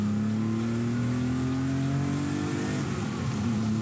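A 1984 Porsche 911 Carrera engine hums steadily nearby, its pitch rising slightly as it revs, with a full, resonant exhaust tone echoing off walls.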